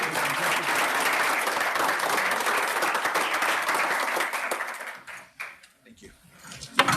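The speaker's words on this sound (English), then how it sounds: "One more round of applause for a fantastic of" Applause from the audience at a monthly board meeting, steady dense clapping for about five seconds that thins out and stops, followed by a few faint scattered sounds.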